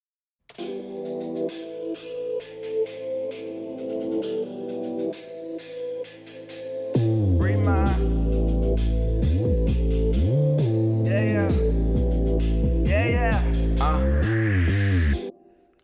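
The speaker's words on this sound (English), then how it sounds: "along with adding some stereo enhancer to again create that widening feel to it" A beat starts with light keys and chords, then heavy sliding 808 bass and hits enter, sounding wide and full, with no one speaking.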